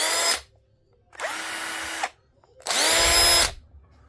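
A Milwaukee 1/4-inch impact driver, M18 or M12, runs in three separate bursts of high-pitched whirring and rapid hammering, each lasting about a second with short silent gaps between, close and loud with no talk.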